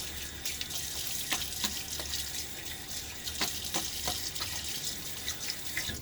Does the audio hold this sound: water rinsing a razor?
yes